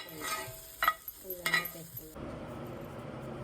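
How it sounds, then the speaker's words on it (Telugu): Beetroot fries in an oiled pan while a spoon stirs it, bringing a few close scrapes and clinks over a soft sizzle that settles into a steady low frying hiss. "బీట్రూట్ ఫ్రై చేసేసాను"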